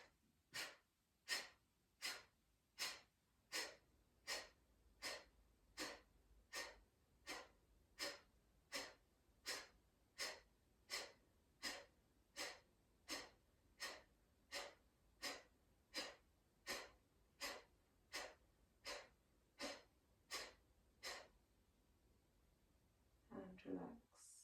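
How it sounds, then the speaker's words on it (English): Rapid forced exhalations in a fire-element yoga breathing exercise: about thirty sharp, evenly spaced nasal puffs in a steady rhythm, close and clear, with a short breath at the end. "Just make sure you're taking a full inhale in between each forced exhale."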